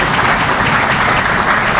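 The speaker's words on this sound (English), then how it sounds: "you can clap for that" A community development grant awards audience breaks into dense, steady applause, a continuous close wash of clapping with no gaps.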